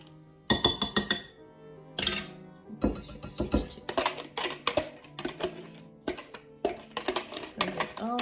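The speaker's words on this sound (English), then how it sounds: "I think a whisk will be better" A whisk mixing salt and sugar in a bowl for milk bread roll dough, with rapid glassy clinking strokes in irregular bursts, loud and close, and a voice speaking now and then.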